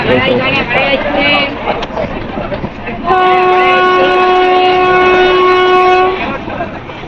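A passenger train on the Konkan route near Kalamboli and Panvel rumbles along the rails nearby while a voice talks over it, then a long, loud horn blast sounds for about three seconds.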